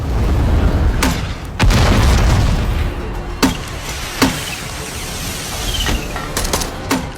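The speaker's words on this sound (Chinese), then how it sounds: "泰勒悄无声息地来到目的地，发现有一小弟在放哨，直接就是一个榴弹伺候。" Grenade launcher blasts in an action film, a series of sharp booming explosions with rumbling decay, several heavy hits spaced irregularly then quicker cracks near the end, loud and close with no talk.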